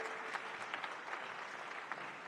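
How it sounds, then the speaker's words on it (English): Audience at a sustainable apparel forum gives a short burst of applause, a dense, even patter of many hands at moderate distance, faint overall and continuing without a break. "Give a big clap for him."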